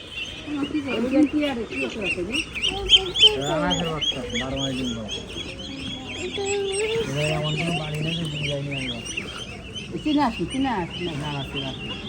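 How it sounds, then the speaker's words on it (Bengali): Chickens cluck and chirp close by with small chicks peeping, while a person talks over the birds throughout. "এ দেখো মুরগি এই যে এ দেখো মুরগি বাচ্চা"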